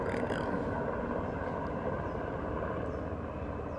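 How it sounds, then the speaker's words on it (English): A steady, broad roar of an airplane flying overhead, loud and continuous with no breaks and no speech over it. "And that airplane is really loud right now."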